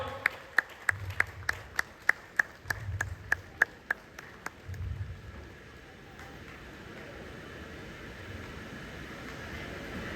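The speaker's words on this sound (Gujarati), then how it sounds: "જોરદાર તાળીઓથી વધાવજો." Rhythmic clapping rings out at a Navratri event as an audience welcomes the chief guest at a felicitation, sharp even claps for about five seconds that then fade into a low room murmur.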